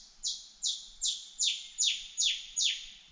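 Rufous Scrub-bird calling in Oakes State Forest: seven loud, clear, evenly spaced descending chirps repeat in a steady series over quiet forest background.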